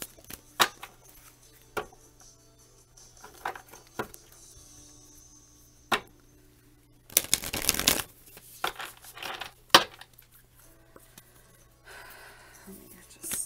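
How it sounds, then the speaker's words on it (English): Tarot cards being shuffled by hand during a reading, heard as scattered soft taps and one dense riffling burst near the middle, close and quiet, with faint breaths between. "Let me just shuffle these a little more, just randomly."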